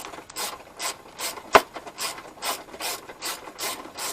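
Hand ratchet with a 10mm socket working a rear strut bolt on a 2007 Scion tC, a rapid run of clicking pawl strokes with one sharper metallic knock near the middle, close up.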